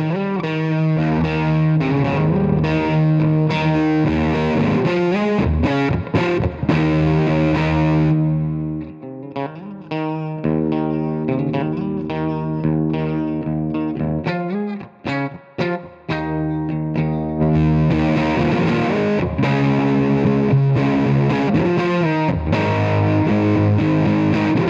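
Electric guitar through a homemade Fuzz Face fuzz pedal, playing thick, heavily distorted sustained chords and riffs with a saturated buzzing tone, loud and continuous, with a few short choppy breaks midway.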